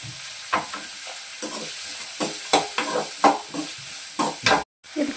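Onion, urad dal and chana dal frying in a pan for paddu, a steady close sizzle broken by repeated scraping stirs of a spoon, with no voices.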